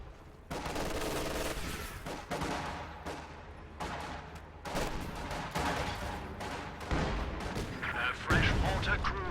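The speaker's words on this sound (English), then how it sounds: "High explosive barrage way off target." A high explosive artillery barrage in a strategy video game: repeated booming shell impacts and bursts, some overlapping, rolling on loudly with a busy battle din over several seconds.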